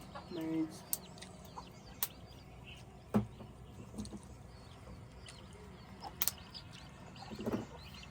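Sparse, faint clucks from chickens over a quiet, murmuring outdoor background, with a few sharp knocks scattered throughout.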